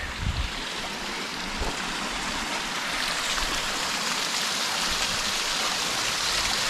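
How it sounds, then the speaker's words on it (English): A river along the Pacific Crest Trail near hot springs rushes in a steady, dense wash of flowing water, close and continuous, with no talking. "let's show you the river"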